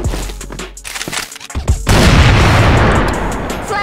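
Loud, sustained burst of automatic FAMAS rifle fire in a video game, rapid shots running together into a continuous roar after a few earlier scattered pops, with a brief voice at the start.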